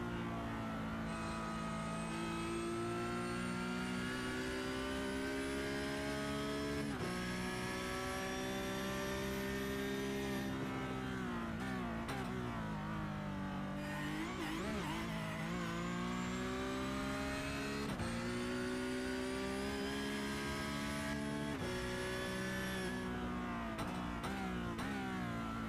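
On-board engine of the No. 96 car leading a sim racing game race at Zolder, a steady loud whine rising and falling through gear changes over long stretches, continuous with no talk.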